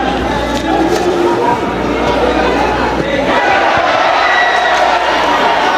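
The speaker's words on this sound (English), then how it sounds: "You can hear the crowd getting involved every time they see something special." Crowd at a school football match between San Juan North and Arima North secondary schools, a dense continuous roar of shouting and cheering spectators, loud and sustained throughout.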